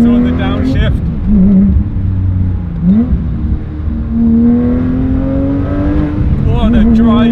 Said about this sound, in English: Just listen to that engine. Downshift sounds good when you just blip the throttle on the downshift.